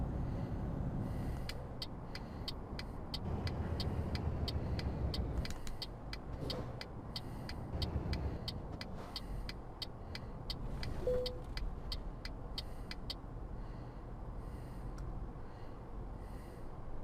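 A Mercedes Actros truck drives in the Euro Truck Simulator 2 game, its steady engine drone running throughout with a regular series of sharp clicking ticks over part of the stretch.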